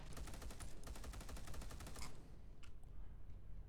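Rapid automatic gunfire in Space Hulk: Deathwing, a steady rattling burst of shots for about two seconds with heavy recoil, then the firing stops and only a couple of faint clicks remain over low ambient rumble.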